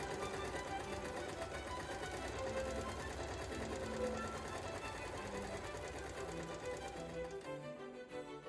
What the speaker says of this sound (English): I folded over and sewed the button plackets.